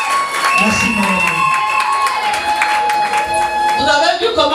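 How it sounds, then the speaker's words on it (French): Applause from guests at a civil wedding ceremony, a steady crowd clapping with some cheering, mixed under an announcer's voice and loud room chatter throughout. "Des applaudissements, mesdames, messieurs."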